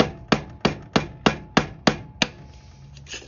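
Seven evenly spaced, sharp hammer strikes on a pipe drive an axle seal into a Sears GT garden tractor, loud and close, followed by a faint scrape and tap.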